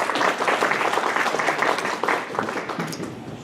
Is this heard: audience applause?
yes